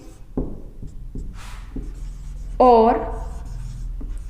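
Marker or chalk writing on a board during a Hindi-language biology lesson on blood clotting, a few short scratchy strokes under a teacher's speech, with one brief tonal squeak midway.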